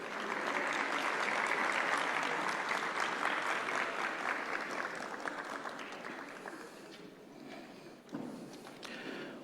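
Audience applause in an auditorium at a labor law congress, a dense sustained clapping that holds loud then gradually thins and fades toward the end, with a brief renewed swell near the close.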